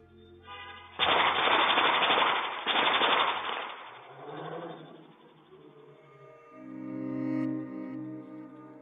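Gunshots fired at a red Volkswagen Golf on a Rotterdam street: two loud bursts of rapid shots in quick succession, heard from a distance, followed by a lingering echo and then quieter vehicle or engine sounds.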